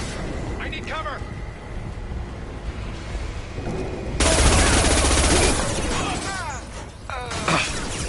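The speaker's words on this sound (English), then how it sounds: "Firing a high-impact shot." Gunfire and a heavy high-impact shot in a video game: scattered shots and chirping weapon effects give way to a loud sustained blast around the middle, followed by more shots and crackling.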